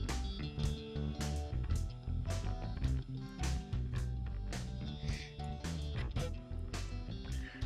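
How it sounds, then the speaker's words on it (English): Harsh, gritty music through a digital bit-reduction distortion set 4 bits down, with crunchy transient bursts and a rough, degraded texture, played at low level without any talking. "This is the new ultimate distortion algorithm as near as I can work out."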